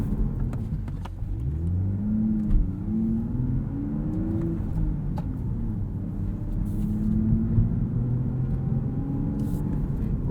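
A 2023 Toyota GR Supra 3.0 with a manual gearbox revs and shifts gears from inside the cabin, its engine note rising and falling through each shift with rev matching, steady and close, with a voice talking over it.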